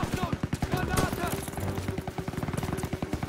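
Rapid gunfire from Call of Duty: WWII, a World War II shooter, with a sniper rifle in use: dense bursts of shots rattling close and loud for the whole span, layered with game sounds and an excited voice talking over it.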